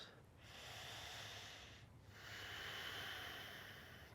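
Deep yoga breathing while holding a pose in a power vinyasa flow: two long, soft, hissing breaths, close and alone, with a brief pause between them.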